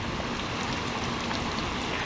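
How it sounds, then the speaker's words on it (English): Dense, steady rain hissing continuously, a broad wash of falling water with no voices. "It's heavy rain right now."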